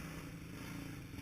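A white KTM 500 fuel-injected motorcycle running on a dirt track, its engine a steady, fairly close drone with a low rumbling undertone and no talk over it.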